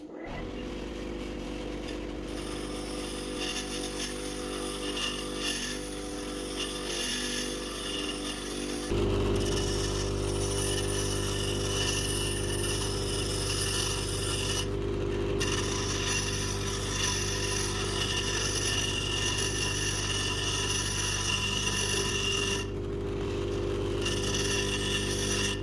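Bench grinder wheel being dressed, the motor droning steadily throughout while a tool scrapes the damaged layer off the wheel, giving a harsh grinding rasp with a few brief breaks in intensity.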